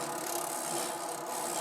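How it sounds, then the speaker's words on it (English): A rotary tool fitted with a barrel sander shapes a wooden spoon, giving a steady, close, broadband abrasive whir and scrape that runs unbroken through the short stretch. "following up with my rotary tool to get a little bit finer"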